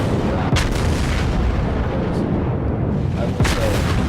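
Battleship shells fire in the World of Warships video game as two sharp booming blasts, one early and one late, over a loud, continuous rumbling game-battle background, with no speech.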